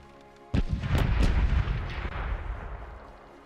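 Starboard ship cannons fire in the naval game Corsairs Legacy, a sudden loud volley of overlapping booms that rolls into a long, fading rumble.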